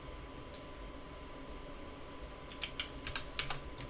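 Quiet keystrokes on a computer keyboard as a command is typed in a Kali Linux terminal, a few isolated taps followed by a short quick burst near the end over faint steady hiss.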